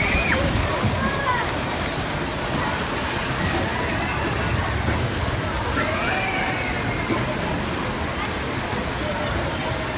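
Log flume boat on a theme park ride after its splash, with steady rushing water and spray continuing throughout, amid background park noise and faint voices.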